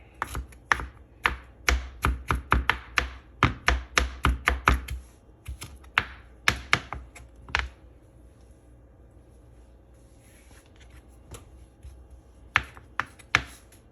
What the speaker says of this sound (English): Now we need to chop this up super fine.